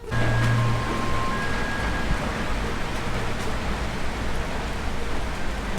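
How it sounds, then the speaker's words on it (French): Steady rain hisses continuously in Huaraz, Peru, a dense, even wash of falling drops with no voices. "malheureusement il pleut ce matin à Huaraz"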